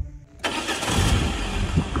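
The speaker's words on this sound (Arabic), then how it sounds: "راك تسمع في الرنات تاع الموتور، عندك بروبليم في زانجيكسيون" A Toyota car engine cranks briefly and catches, then settles into a steady, fairly loud idle; the engine is said to have an injection fault.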